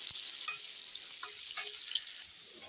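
Potatoes fry in hot oil with a faint, steady sizzle, punctuated by a few light stirring scrapes and taps.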